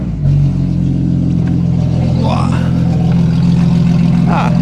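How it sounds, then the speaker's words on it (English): A BMW G82 M4 cold start on a chilly morning at about 5 degrees: a loud, steady, deep engine drone with a high idle, close by, with brief voices over it. "So let's do a cold start."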